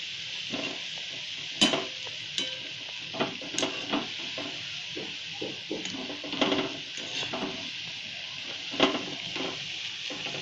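Spinach pakoras fry in hot oil with a steady, close sizzle, punctuated by scattered clinks and scrapes of a spoon stirring and turning them in the pan.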